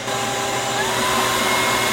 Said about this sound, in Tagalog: Napa-order nga ako ng bagong vacuum at galing nga ito sa U1.